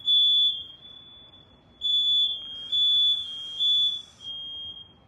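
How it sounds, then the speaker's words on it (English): A smoke alarm set off by barbecue smoke sounds in loud, shrill beeps: one long tone, a pause, then three more bursts in a row. "That's the fire alarm going off because"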